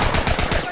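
Rapid gunfire in The Last of Us during a multiplayer firefight, a dense run of shots lasting under a second with no break between bursts.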